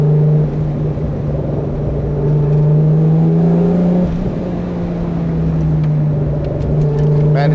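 A high-horsepower Toyota Supra, a roughly 1600 kg car, drones steadily from close by through a second-gear mountain road, its engine note holding and rising under load for several seconds without speech.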